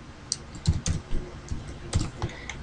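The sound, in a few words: typing text on a computer keyboard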